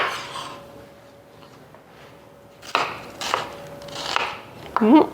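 Onions being chopped by knife for a fresh fermented salsa: a few sparse, separate cuts against a board after a quiet stretch, with a faint steady hum underneath.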